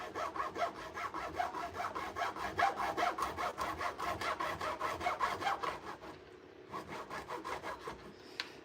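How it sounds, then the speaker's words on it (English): A hand saw cutting freehand through a plastic proton pack part, with steady back-and-forth rasping strokes at a brisk, regular rhythm, close and clear. The strokes slow and turn more uneven near the end. "I'm gonna try freehand sawing this on here"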